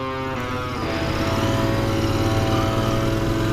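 Royal Enfield Interceptor motorcycle riding, its engine a loud, steady droning hum that builds after the first second and holds on, with no talk.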